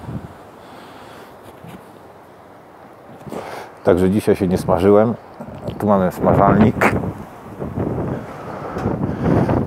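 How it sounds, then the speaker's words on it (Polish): Outdoor wind buffets the microphone on a beach with a low, gusty rumble that never lets up, running under someone talking. "No niestety trochę wiatr wieje."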